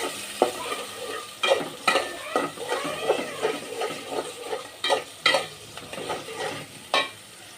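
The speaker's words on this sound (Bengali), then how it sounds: "এই যে কেটে রাখা পেঁয়াজ, কাঁচামরিচ দিয়ে দিব। এখন হালকা নেড়ে চেড়ে ভেজে নিব।" Chopped onion and green chilli frying in a pan while being stirred, a bright sizzle broken by repeated sharp scrapes and knocks of a spatula every second or so, close and clear, with no talking.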